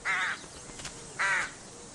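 A rook gives two harsh, rasping caws about a second apart, loud and close, with a faint softer note between them and no other sounds.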